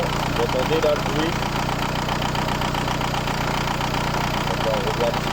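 A VW New Beetle TDI ALH diesel engine idles roughly after its injection pump is adjusted, a steady knocking clatter that continues without pause for several seconds, loud and close.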